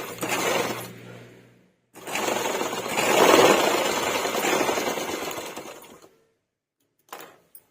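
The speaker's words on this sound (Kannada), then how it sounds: "ಸೊ ನಾನು ಎಡ್ಜ್ಗೆ ಒಂದು ಹೊಲಿಗೆ ಹಾಕೊತೀನಿ." A sewing machine stitches along the edge of a kurti's V neckline: a short whirring run, a pause, then a longer steady run of about four seconds, ending with a brief final burst.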